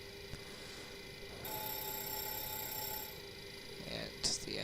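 In a Boeing 727 cockpit, a continuous electric fire warning bell rings during an engine fire test, a faint, steady ringing that jumps in level partway through, with a burst of higher tones near the end.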